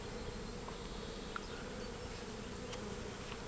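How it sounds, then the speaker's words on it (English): Honey bees hum steadily inside an opened beehive, a dense, even drone that is faint overall and carries on alone for the whole stretch, with no voices. "And all the others, you can see there, lots of bees."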